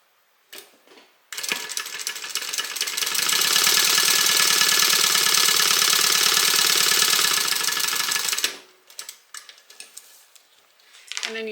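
A sewing machine stitches a zipper onto a pocket, running in one loud continuous burst for about seven seconds with a fast, even mechanical whir, then stopping, with quiet handling noises before and after.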